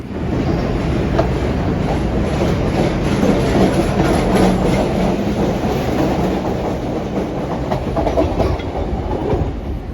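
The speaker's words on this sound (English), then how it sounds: "the train has arrived at Racine Station, and this is where Lindsey is getting off." A Chicago Blue Line subway train arrives at Racine station, rumbling rail cars rolling steadily with rhythmic clickety-clack and faint wheel squeal, a loud continuous train noise with no voices.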